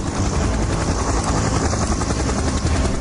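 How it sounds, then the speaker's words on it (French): A helicopter flies toward Eiaho island, its rotor and engine making a steady, loud, dense roar that fills the whole stretch with no talking. "Ils décident de louer un hélico pour se rendre sur l'île d'Eiaho"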